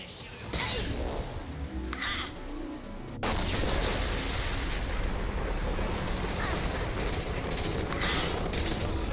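A heavy explosion rumbles loud and broad in Mass Effect 2, sustained as a roaring wash after a sharp onset, with game noise and a faint whistling tone before it.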